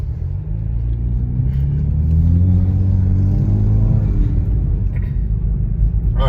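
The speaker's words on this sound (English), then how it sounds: "that was a quick test drive" A turbocharged Chevrolet Camaro on a test drive, its engine a steady low rumble with a gentle rise in revs and road noise, close and continuous throughout.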